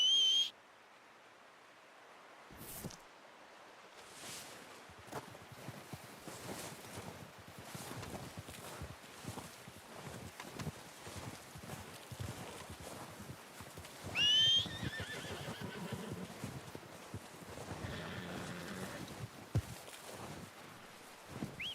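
Horses in the video game Red Dead Redemption 2, a sharp whinny opening and another neigh midway, with soft hoof clops and rustling footsteps across a quiet outdoor scene.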